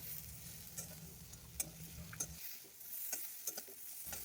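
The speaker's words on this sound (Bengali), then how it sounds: "একটু ভেজে নিয়ে তারপর আমি এতে দিয়ে দিয়েছি ম্যাগিগুলো" Maggi instant noodles frying and being stirred in a pan, a steady close sizzle with scattered scraping stirs, the low frying bed dropping away halfway through while light crackles continue.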